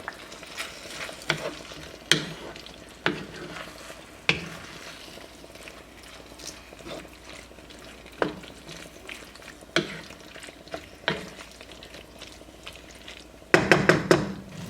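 Onions and green onion tops stirred into a chicken stir fry in a pan, a steady sizzle with repeated scraping clicks of the utensil and a louder clatter near the end, no talking.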